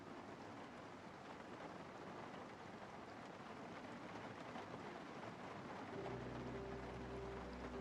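Steady rain in the Project Zomboid video game, a faint continuous hiss with no voices. A low hum joins in near the end.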